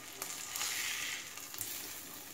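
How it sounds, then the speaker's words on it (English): Sesame-crusted tuna searing in a hot pan, giving a steady, quiet hiss and sizzle with a few faint crackles over a couple of seconds. "Tuna is nice and seared."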